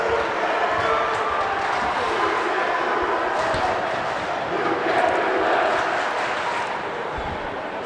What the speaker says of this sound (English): it's a big crowd here tonight